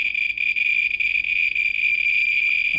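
A radiation detector held close to a radioactive device gives off a loud, steady, high-pitched buzz. Its rapid clicks blur into one continuous tone that lasts the whole time, with no talking.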